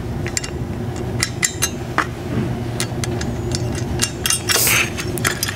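Metal washers and nuts being handled during a door hinge bracket install on a Polaris RZR XP1000 / Turbo S, giving repeated light metallic clinks and ticks over a steady background rumble.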